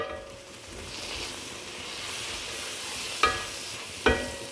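Spice powders being stirred into a sautéing masala in a pan: a steady soft sizzle with scraping stirs throughout and two sharp clinks of the spoon against the pan near the end, with no talking.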